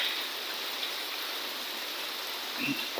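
Steady, hissing rainfall pours down without pause, a dense wash of drops filling the background.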